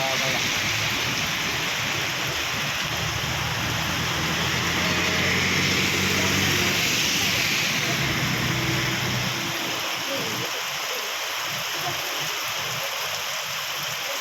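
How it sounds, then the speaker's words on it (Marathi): Heavy rain pours down in a steady, dense hiss that stays loud throughout, with a faint low engine-like rumble in the first part and no clear talking. "कमी आल्याला नाही पाऊस आता"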